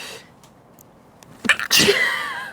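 A single sharp sneeze bursts out after a quiet lead-in breath, loud and close.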